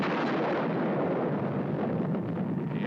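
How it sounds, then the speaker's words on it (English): A French atomic bomb mounted on a tower in a Pacific lagoon detonates, producing a loud, sustained roaring rumble that stays dense and broad throughout without a break. "The A-bomb, mounted on a tower in a lagoon, turns the sky white at the moment of detonation."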